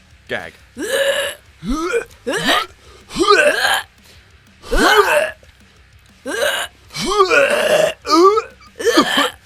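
A person makes a series of repeated gagging, retching sounds, about ten short throaty bursts in an uneven rhythm, close up.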